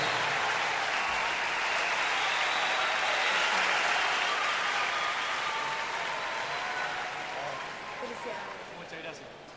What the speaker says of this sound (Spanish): Acompañemos con un aplauso esta merecida nominación y distinción.